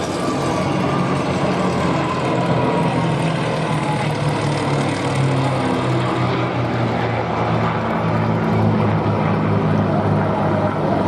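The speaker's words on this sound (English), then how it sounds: "Coming from the left, listen to the noise of the Daimler-Benz." A Messerschmitt Bf 109 with a Daimler-Benz engine flies past at the Duxford Flying Legends air show in 2015. Its loud, continuous propeller-engine roar stays strong and sustained throughout.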